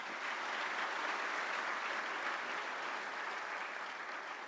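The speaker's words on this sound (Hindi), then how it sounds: "एक बार जोरदार तालियां हो जाएं।" Loud, sustained applause from a large crowd at a government incentive distribution ceremony, dense even clapping filling the whole stretch without pause.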